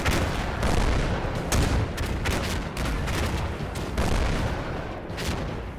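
Explosions and rapid gunfire rage continuously in a war game, with grenades trading between attackers and entrenched Syrian positions on a hillside; dense, loud booms and crackling shots overlap without pause.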